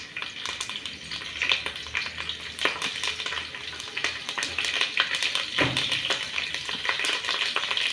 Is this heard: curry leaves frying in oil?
yes